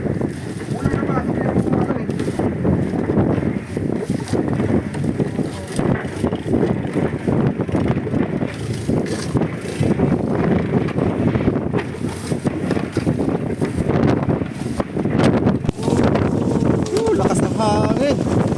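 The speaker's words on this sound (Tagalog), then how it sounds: "Lakas ng hangin." Strong wind roars across a seashore, buffeting the microphone in a constant loud rush while people talk intermittently over it.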